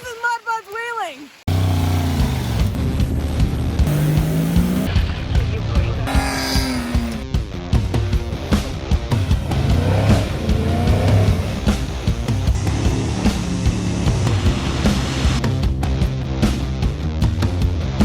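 A Volvo XC70 drives and accelerates on an overlanding trip, its engine droning loudly and continuously inside the cabin with changing pitch, while people talk over it.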